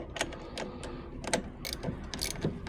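Ratchet with a 10 mm socket loosening a battery terminal on a facelifted Ford Focus Mk2: rapid bursts of metallic clicking with short pauses between them, close up and fairly quiet.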